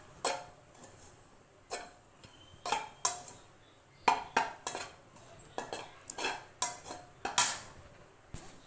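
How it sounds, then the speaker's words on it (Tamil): Lentils being roasted and stirred in ghee in a kadai, heard as a run of sharp, close metallic scrapes and clinks of a spoon against the pan, irregular and separated by quiet gaps, with no voices. "பருப்பை வறுத்து எடுத்துகிட்டு அந்த இருந்த நெய்யிலே போட்டு நல்லா அப்படி ரோஸ்ட் பண்ணிக்கிடுவோம்"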